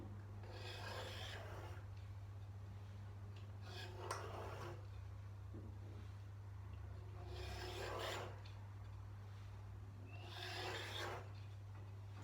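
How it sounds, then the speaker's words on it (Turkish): Rolled dough for mantı being cut into straight strips along a wooden rolling pin, heard as a few slow rasping, rubbing drags with gaps between them, close and quiet over a steady low hum. "Oklavanın da yardımıyla düz çizikler halinde kesiyorum hamurumu"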